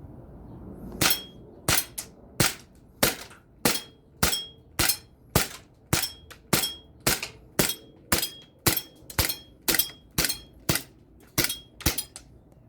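A Crosman P1 air pistol fires on semi-auto, about eighteen sharp, loud cracks in a steady even rhythm, each snapping off with a brief ringing tail.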